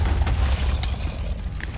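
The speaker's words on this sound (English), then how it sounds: "Look, big fireworks." Big fireworks exploding in Minecraft come through as a loud, sustained low rumble of booms with a few brighter crackling bursts, filling the whole stretch without any talk.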